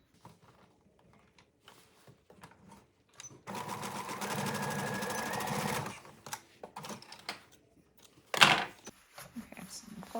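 Sewing machine stitching the overlapped ends of an elastic band together for rain pants: one steady run of about two and a half seconds in a quiet room, with scattered small handling clicks before and after.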